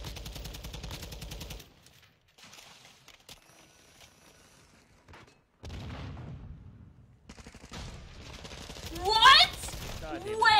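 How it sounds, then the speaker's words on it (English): Bursts of automatic gunfire from a shooter video game crackle in rapid volleys, loud up front, then drop out to quieter stretches before scattered shots return, with a sharp whistling effect near the end. "I was shooting at him and he just turns from you and shoots me?"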